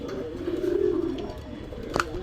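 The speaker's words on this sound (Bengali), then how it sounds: "এই এক পেয়ার আছে এলো আমাদের দেশি কবুতর" Native pigeons kept in a pigeon shop in Gallamari, Khulna, coo in a soft, steady low murmur from nearby, with a brief sharper sound near the end and no talking.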